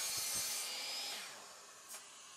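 A saw cuts through scrap wood in a quick, close, rasping burst that fades out, followed by a faint brief scrape near the end.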